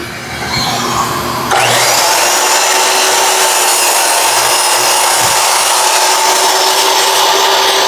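A saw grinds steadily through wood at close range under a constant loud mechanical drone.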